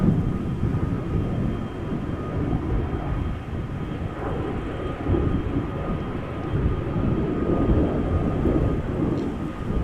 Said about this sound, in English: A340 from HiFly coming our way.